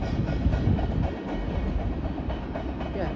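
A CSX freight train rolls past close by in Union, New Jersey, a loud steady rumble of wagons with clickety-clack wheel rhythm filling the whole stretch, no voices.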